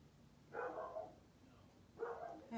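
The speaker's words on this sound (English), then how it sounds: "And there's my dog." A dog barks twice, each a short burst about a second and a half apart, faint and somewhat distant against a quiet background.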